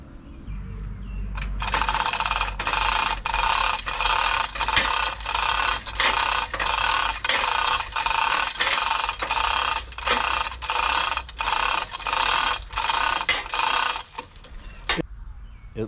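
A Harbor Freight chain hoist raises a lawn mower, its pawl ratcheting in a loud, rapid, steady rhythm of evenly spaced clicks close up for about twelve seconds before stopping.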